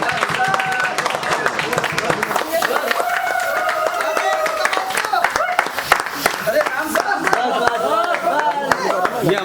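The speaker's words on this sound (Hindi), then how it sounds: "वाह वाह, ताली दो, ताली गिराओ" A group in a mobile-repair workshop claps for the day's winner, with brisk, uneven applause running throughout under loud overlapping talk and cheering voices.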